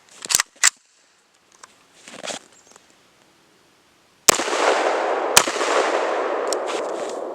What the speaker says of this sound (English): I'm going to hit it with my two AR-15 rounds